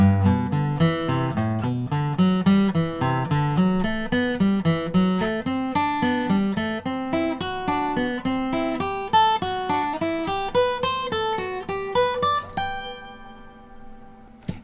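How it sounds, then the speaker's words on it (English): Guitar plays a triad exercise in steady eighth notes, running up one triad and down the next, so the line climbs and falls in an even rhythm, close and clear with no talk, before ringing out at the end. "I like to do this ascending then descending triad pattern like this"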